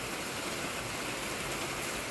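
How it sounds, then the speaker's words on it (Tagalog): Heavy rain falling in San Mateo, California, a steady, dense broadband hiss of downpour that stays even and continuous throughout, with no voices. "malakas ang ulan doon"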